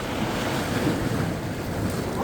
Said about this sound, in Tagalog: Tumaas yung alon.